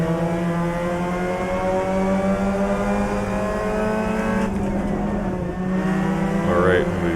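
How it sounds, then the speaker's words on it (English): Race car engines roar and tires spin at the start line in the video game Assetto Corsa, a sustained loud droning blend of many engines revving together, with no one speaking. "There's a cloud of smoke from everyone spinning tires at the line."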